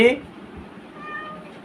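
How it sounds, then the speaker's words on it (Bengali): A pet cat meows once, a short near call over a quiet room with a fan running, and a voice speaks around it. "এদিকে দেখো মিয়াও করছে।"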